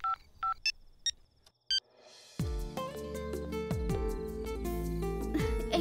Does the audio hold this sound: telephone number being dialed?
yes